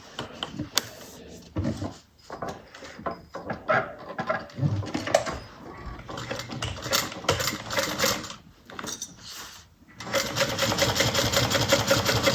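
A sewing machine stitches the seams of a fabric bucket bag in long, steady runs broken by short pauses, close and fairly loud, with a dense continuous whir at the end.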